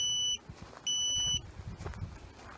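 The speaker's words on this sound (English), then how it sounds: "Once I get back inside of the barrier, the GPS unit will stop beeping at me." A GPS dog fence collar (My Pet Command MPCGPS2) gives its warning: two sustained high electronic beeps, each about half a second long, close by, with soft rustling and footsteps between them.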